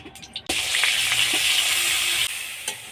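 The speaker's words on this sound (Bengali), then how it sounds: "দিয়ে মশলাটাকে ভালো করে কষিয়ে নেব" Spice paste made with ground cumin and coriander hits a hot pan with a sudden loud hiss that spits steadily for about two seconds, then drops to a quieter sizzle with a single knock.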